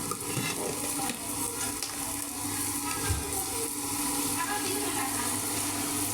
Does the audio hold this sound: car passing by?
no